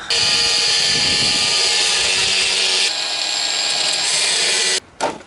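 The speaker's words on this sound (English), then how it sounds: "So I'm going to try cutting it off." A loud, high-pitched power tool whines steadily as it cuts off a welded metal part on a Honda C90 motorcycle, shifting tone midway, then stops abruptly with a brief final burst.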